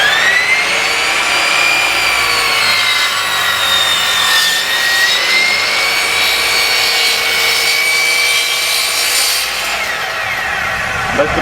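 A Bosch sliding miter saw runs with a loud, steady high-pitched whine as the blade cuts through a wooden board, the tone sagging slightly under load before winding down.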